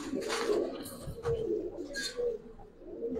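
Giribaz pigeons cooing close by, several soft throaty coos repeating in a steady rhythm with faint background noise.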